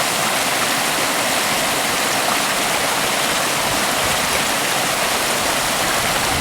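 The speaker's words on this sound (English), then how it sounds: "enjoy this cute little bubbling stream as it makes its way through the trees" A small bubbling stream flows through aspen trees in Colorado, a loud, steady, close hiss of rushing water that continues without a break and with no voices.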